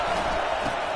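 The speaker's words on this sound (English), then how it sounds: "Here comes this home crowd as the defense tries to get off the field on 3rd down." Home crowd at a football game on third down, a steady, dense cheering roar from a large stand that holds even and unbroken throughout.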